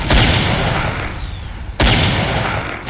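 A Nod structure blowing up in a strategy video game, two loud heavy booms, each swelling into a long roaring rumble of debris.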